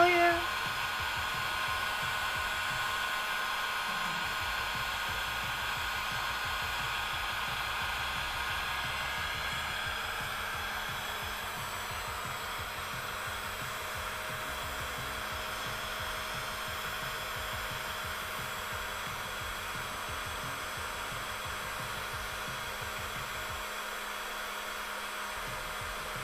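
A heat gun or hair dryer dries paint on a giant cardboard pencil, giving a steady, close airy roar with a low hum that continues unbroken for the whole stretch.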